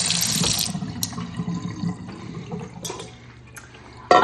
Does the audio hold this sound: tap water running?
yes